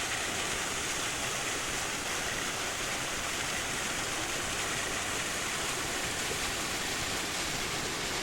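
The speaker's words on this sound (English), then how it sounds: "I do hear a waterfall." A waterfall runs beneath a frozen ice bridge in the White Mountains in spring, a steady broadband rushing hiss that stays even and unbroken throughout, fairly faint and with no voices.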